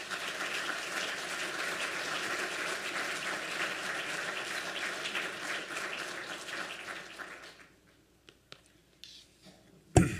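Audience applause welcoming architect David Chipperfield to a lecture, steady and dense for about seven seconds, then fading out to a few scattered claps and near silence.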